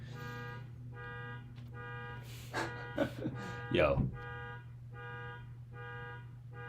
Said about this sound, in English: That honking must be coming through. That's annoying.